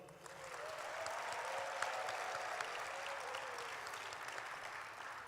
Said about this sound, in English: let's give a round of applause to our 10th President, Dr. Robert A. Underwood.